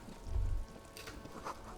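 Rain falls in the detective game Disco Elysium as a steady, soft hiss, with a brief low rumble near the start.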